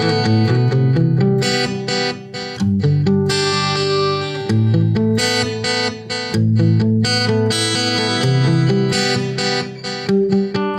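Layered electric guitar chords through a Marshall AS100D with delay effect, echoing repeats trailing each note, a steady, full wash of effected tone playing continuously with no voices.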